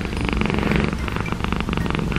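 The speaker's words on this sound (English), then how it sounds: "When I smush her, she purrs louder." A pet cat purrs loudly and continuously while being squeezed and cuddled, a close, rumbling rhythmic drone with no talking.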